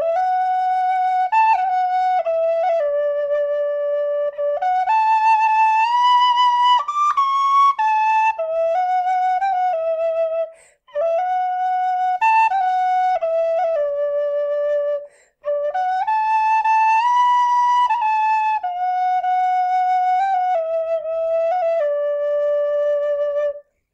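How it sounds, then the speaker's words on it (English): A Clarke penny whistle plays a bright, clear melody of quick stepwise notes close up and loud, in phrases separated by two short pauses, with no talking. "it's a good little whistle, quite a nice mouthpiece as well, easy to use, easy to blow"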